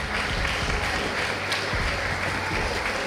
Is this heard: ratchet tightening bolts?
no